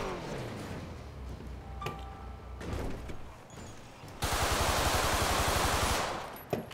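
Video game gunfire during a police chase on a freeway, with scattered shots early, then a dense, loud burst of rapid automatic fire near the end.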